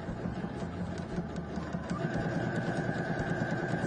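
A sewing machine stitches a seam in fabric along a pattern line, giving a steady, fast mechanical whir with rapid rhythmic ticking, close and unbroken by speech.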